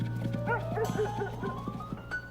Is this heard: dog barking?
yes